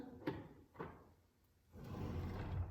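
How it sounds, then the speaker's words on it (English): Old door at the abandoned Randolph County Asylum, two quick knocks or thuds followed by a faint, low, drawn-out groaning creak that swells near the end. "So if you hear a growl, it's this door."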